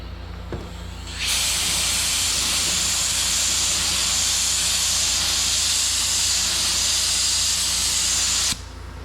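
A spray gun lays urethane high-build primer onto car bodywork, a loud steady hiss that starts abruptly, holds for about seven seconds and cuts off sharply, with no talking.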